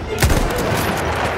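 Gunfire in the video game Battlefield 1: a short burst of a few sharp shots, loud and close, with a voice talking over the action.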